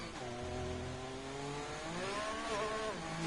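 A Ferrari race car engine in a racing game at the Belgium track, heard onboard as a steady, fairly quiet whine that rises in pitch, dips briefly, then climbs again.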